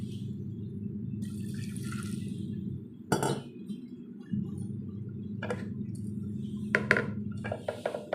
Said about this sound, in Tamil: அது வேகிறதுக்கு கொஞ்சமாக தண்ணி விட்டுக்கிறேன்